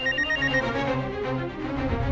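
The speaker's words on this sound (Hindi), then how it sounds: "तो फोन उठाओ।" A telephone rings loud and close, a rapid trilling electronic bell pattern repeating across the moment with no voices over it.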